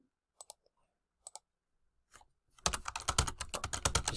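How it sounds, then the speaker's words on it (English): Computer keyboard typing: a few isolated key taps at first, then a fast, loud, dense burst of continuous keystrokes close by, with no speech. "Just type some stuff."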